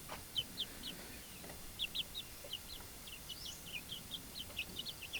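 Young Basilan chicks in a cage give repeated high, thin peeping chirps in irregular bursts, fairly close and moderately loud, with no talking.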